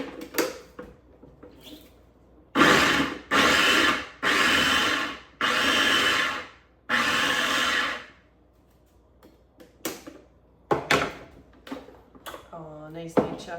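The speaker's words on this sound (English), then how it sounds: "So I use an electric twist and chop is what this thing is called" An electric twist-and-chop food processor chops onions in short loud whirring bursts, about five pulses each lasting roughly a second, with brief gaps, followed by quieter handling clatter and a voice.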